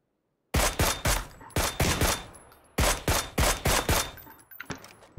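Rapid bursts of automatic gunfire in PUBG, several loud close volleys in quick succession with brief gaps between them, no talking.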